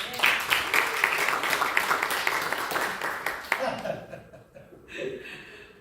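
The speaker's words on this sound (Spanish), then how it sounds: "Vamos a recibir a Daniel con un aplauso." A church congregation applauding to welcome a man named Daniel, a burst of dense clapping that thins out after a few seconds as a few voices and light laughter come through.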